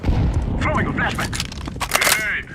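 A flashbang grenade thrown and going off in Counter-Strike: Global Offensive, a sharp crack and bright burst amid steady game noise, with a player talking over it.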